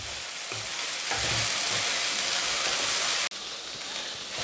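Sliced okra stir-frying in a pan with a pinch of pepper powder for Kerala vendakka mezhukkupuratti, a steady bright sizzle broken by brief stirring scrapes and a short sharp knock near the end.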